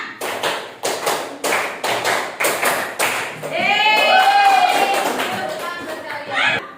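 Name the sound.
rhythmic clapping pattern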